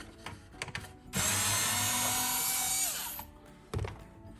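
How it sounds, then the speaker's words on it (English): A power driver backs Phillips head screws out of a bracket on a Jeep 392 tail light area, one sustained whirring burst of about two seconds framed by close clicks and knocks. "it says you need to remove the screws holding this bracket on"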